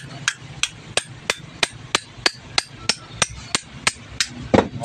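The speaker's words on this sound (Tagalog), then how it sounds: "Tapos, kukuha lang tayo ng martilyo." A hammer strikes metal in a steady series of about a dozen sharp, evenly spaced blows, close and loud, knocking the spacer off the shaft of an electric fan during repair.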